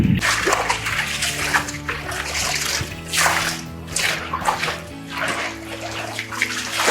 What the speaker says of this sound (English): Let's go around and kind of wet everything down.